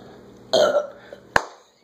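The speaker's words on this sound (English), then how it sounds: "You got a burp in you?" A single loud burp after gulping ginger ale straight from the bottle, short and close, followed by a sharp click-like sound.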